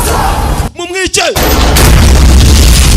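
Loud, dense blasts and bursts of gunfire fill a film shootout between men and police, with a brief lull where a voice cries out before the barrage resumes.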